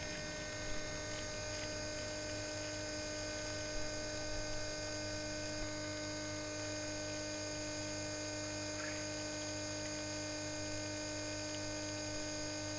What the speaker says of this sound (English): you can see how good a water pressure the little pump's pumping